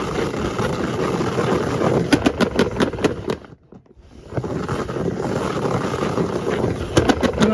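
A salad spinner whirling paper beads to fling off glaze, a loud steady rushing whir close by that dips into near silence briefly as it slows, then spins up again with a few light rattling clicks.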